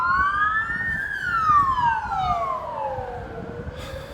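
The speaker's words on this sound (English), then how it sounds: "Sorry about the ambulances and that." A loud siren wails, sweeping slowly up and then down in pitch, rising over steady background traffic rumble with no talking.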